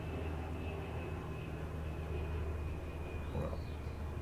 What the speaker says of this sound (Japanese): ヘリがうるさい。